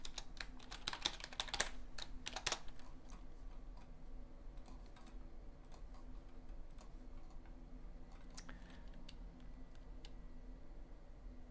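Quick bursts of keystrokes on a computer keyboard in a quiet room during a live Android developer Q&A session, clustered at the start and then trailing into sparse, fairly faint clicks over steady background hum.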